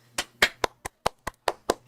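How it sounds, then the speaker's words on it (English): Eight quick hand claps in a brisk, slightly uneven rhythm, close and fairly loud, with no voices. "Get the hand clap."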